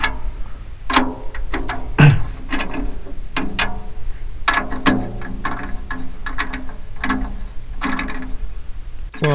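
A snare drum being tuned by hand, its tension rods turned with a drum key, heard as close, irregular clicking and ratcheting taps with occasional light knocks on the drum.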